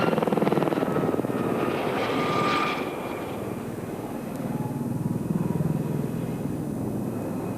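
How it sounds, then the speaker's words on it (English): Steady rotor thump and engine roar from the Army Air Corps Silver Eagles helicopter display team passing overhead at an air show, loud and continuous with a slight swell and fade, no voices. "The Army Air Corps' helicopter demonstration team"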